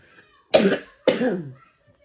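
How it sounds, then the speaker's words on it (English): Two harsh coughs in quick succession, close and fairly loud, with quiet in between and after. "I was not coughing like this before I decided to do this reading"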